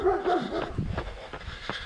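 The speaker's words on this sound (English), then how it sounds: "So dog barking." A dog barks and yips outdoors during a run, a few short vocalizations close by over footsteps and background noise.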